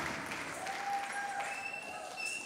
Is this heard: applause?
yes